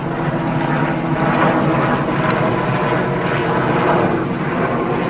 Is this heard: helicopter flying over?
yes